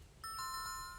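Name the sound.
doorbell ringing at a mansion door, from the video game 2064: Read Only Memories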